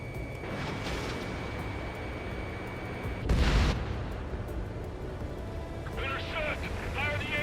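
A heavy burst of anti-aircraft fire and explosions booms across a battlefield in the combat flight game Ace Combat 7, rising sharply midway under a rumbling backdrop of engines and radio chatter.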